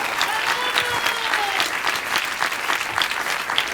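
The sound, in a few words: audience applause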